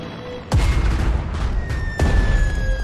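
Artillery bombardment in the strategy game Strategic Mind: two heavy booms land about a second and a half apart, loud and close, each trailing a rumbling roar under faint game tones, with no one talking.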